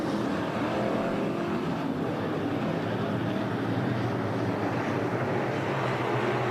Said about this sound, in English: green flag is in the air. We're underway with heat race number 3 for the Northern IMCA Sport Mods